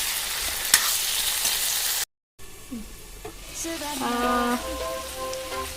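A pot of pumpkin pieces, cut fairly large, simmers on the stove with a steady close bubbling hiss and sizzle throughout, broken by a brief cutout and a few soft clinks and tones near the end.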